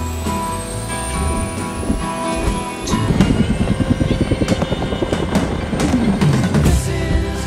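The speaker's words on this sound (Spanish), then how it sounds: "Retoma su confianza y se decide a subirse al helicóptero." A helicopter in the film The Secret Life of Walter Mitty whines as its engine spools up, then its rotor settles into a loud, rapid thudding chop that continues close and steady to the end.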